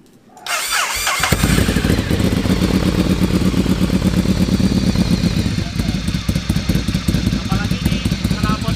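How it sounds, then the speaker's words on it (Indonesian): Ducati Monster 1100 Evo L-twin engine with a modified exhaust starts up and settles into a loud, deep, steady rumbling idle, close and continuous throughout. "dari tadi saya bilang L-twin-nya itu suaranya menggelegar"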